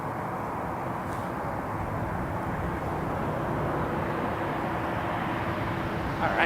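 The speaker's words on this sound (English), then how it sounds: "787 Dreamliner. Air Canada 1088 headed to Orlando." Air Canada 787 Dreamliner jet departing Toronto Pearson Airport, a broad steady engine roar heard from a distance, holding constant throughout with a faint rise at the end.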